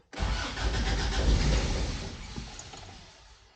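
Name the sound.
classic Toyota pickup engine cranking and starting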